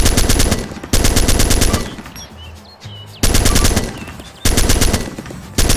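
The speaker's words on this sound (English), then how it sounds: "The full auto mode fires bullets while the trigger is pulled until the clip is empty." Full-auto rifle fire in the video game ARMA II Operation Arrowhead, loud rapid bursts of gunshots broken by short pauses with faint clinks and shell sounds between them.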